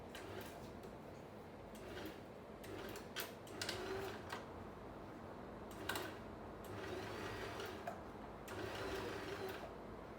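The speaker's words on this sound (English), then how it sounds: "So I've got a brand new needle in the sewing machine" A sewing machine running in bursts while sewing scrunchies, a faint mechanical whirr and rattle starting and stopping across the stretch, quiet and distant-sounding with no voices.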